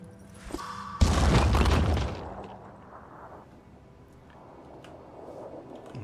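A grenade explosion destroying stairs in a video game, one sudden loud boom with a crumbling roar that fades over about a second, then quiet ambient game noise.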